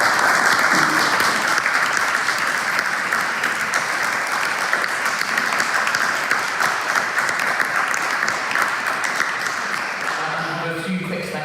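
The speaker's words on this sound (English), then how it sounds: "could you please join me in giving everyone a warm round of applause?" A large audience at an academic seminar at Trinity College applauds steadily and loudly for about eleven seconds, the clapping thinning slightly near the end.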